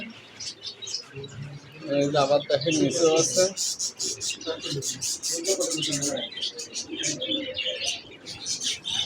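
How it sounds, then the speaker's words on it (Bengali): Doves and other caged birds chirp and coo in a large pigeon and bird shop, light twittering calls scattered throughout under close conversational speech. "এখানে অস্ট্রেলিয়ান ঘুঘু বিভিন্ন জাতের ঘুঘু পাওয়া যায়"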